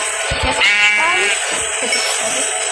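A goat bleats once, loud and close, a wavering cry lasting about half a second over outdoor background noise.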